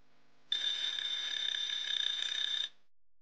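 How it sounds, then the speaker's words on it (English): Eilik robot pet's countdown timer alarm: a steady, continuous electronic buzzing tone with rapid pulsing, starting abruptly and stopping cleanly after about two seconds, alone and fairly clear. "He can set a countdown timer to help you track with your work."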